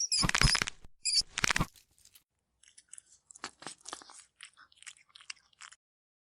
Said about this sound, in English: The cat tears it apart instantly.